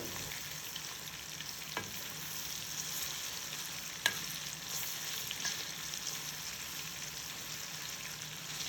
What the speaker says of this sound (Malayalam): ഒരു മീഡിയം ഫ്ലെയിമിലിട്ടിട്ട് വേണം നമുക്കിത് ഫ്രൈ ചെയ്തെടുക്കാനായിട്ട്